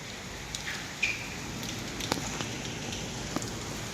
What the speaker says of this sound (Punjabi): ਕਿੰਨਾ ਮੀਂਹ ਆ ਗਿਆ